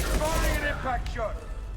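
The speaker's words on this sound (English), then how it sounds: "Firing an impact shot." An impact shot fires in the video game Mass Effect 2, a dense burst of weapon and mechanical noise that sits under in-game voices speaking throughout.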